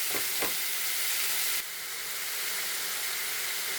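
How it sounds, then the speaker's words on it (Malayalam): Large prawns frying in a pan for prawn biryani give a dense, steady sizzle with a couple of soft stirring knocks at the start; the sizzle drops slightly in level partway through and then carries on evenly. "ഇനി ചെമ്മീൻ ഫ്രൈ ചെയ്തെടുക്കാം"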